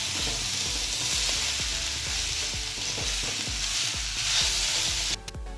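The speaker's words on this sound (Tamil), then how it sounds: "அவல் ஆட் பண்ணதுக்கப்புறம் ஒரு 30 செகண்ட்ஸ் நல்லா வதக்கிக்கிட்டோம்." Flattened rice (poha) stir-fried in a pan for upma, with a steady close sizzle and a regular rhythm of spatula knocks and scrapes against the pan, then an abrupt stop.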